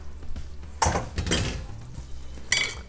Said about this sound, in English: And then you'll add our rigatoni back to the pan.